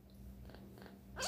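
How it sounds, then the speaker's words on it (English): A kitten purrs softly in a low, steady rumble close by, ending with a brief higher meow-like sound. "Do you hear him purring?"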